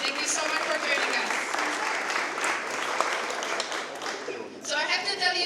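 Audience at the opening of a Zurich AI hackathon breaks into sustained applause, a dense wash of clapping that carries on steadily and then fades near the end as a voice comes back in.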